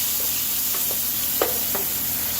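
Onions saute in a hot pan for smothered pork steaks, a loud, steady close hiss with a few scattered utensil clicks and one sharper knock near the middle.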